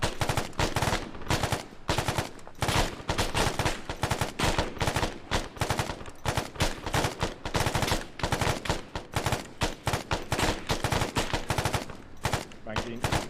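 Sustained cover fire in the military shooter game ArmA: continuous rapid automatic gunfire in loud, dense bursts with barely any pause, close and dominating throughout.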